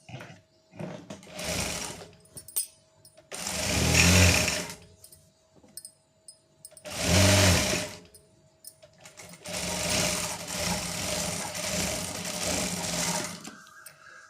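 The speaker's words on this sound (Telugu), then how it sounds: "దాని మీద స్టిచ్ వేసుకోండి." A sewing machine stitches pant fabric in several bursts of rapid mechanical whirring, separated by short pauses, close and loud with no talking.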